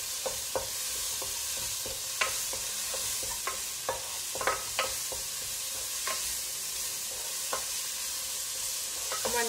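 Turmeric powder sautéing in a pan for Kerala-style tomato rasam: a constant low sizzle carries sharp, irregular clicks and scrapes as a spoon stirs against the pan.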